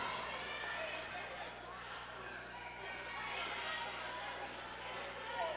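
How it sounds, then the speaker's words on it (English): Dense crowd noise at a live independent wrestling show, a steady roar of cheering and chatter from spectators around the ring, loud and continuous throughout with no pauses. "Man, listen to this crowd."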